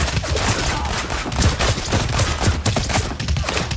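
Gunfire in the battle royale game Realm Royale, a loud, dense stream of overlapping shots and impacts pounding steadily at close range with no pause.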